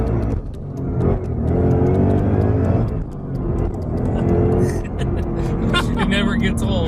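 A 2017 Ford Mustang GT engine accelerating and rumbling steadily from inside the car, loud and sustained, with people talking over it.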